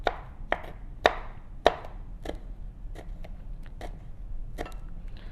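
Knife chopping through ingredients for spicy flower clams on a board, a string of sharp, close taps, a few loud strikes early then lighter irregular cuts, no talking.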